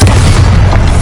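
Bombarda blasting spell in a video game, a single deep, loud boom that fills the whole moment, with no voices over it.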